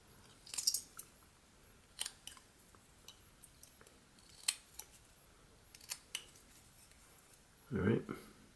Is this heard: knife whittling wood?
yes